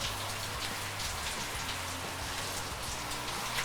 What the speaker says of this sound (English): I think that was a pretty good dousing, as good a rain pour as I've ever been in